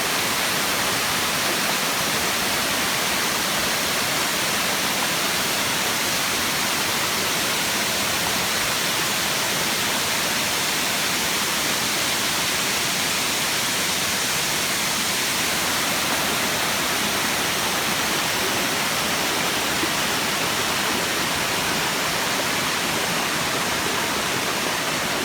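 Tarzan Falls waterfall in Guam roars as a steady, dense wash of falling water, loud and constant throughout with no voices.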